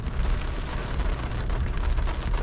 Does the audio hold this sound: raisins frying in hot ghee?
no